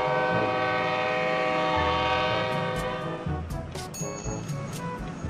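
A train in the video game Rails Unlimited sounds a long, loud horn over a rumbling engine, then the horn fades as rhythmic clicking of wheels on track joints comes through.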